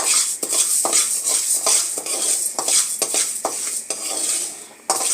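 Chana dal frying in a pan for brinjal rice, with a bright continuous sizzle under frequent sharp metal spoon scrapes and clinks against the pan, no voices.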